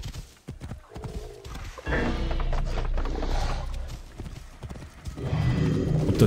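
Horse hooves clip-clop steadily on the ground in Assassin's Creed Origins, mixed with game ambience and faint animal noises, moderately close and fairly quiet.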